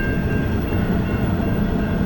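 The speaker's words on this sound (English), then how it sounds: "This train just keeps coming." A long freight train rolls past on an Australian outback road near Nanutarra and Karratha, a loud, steady rumble of wagons on rails with a faint high tone above it, no voices.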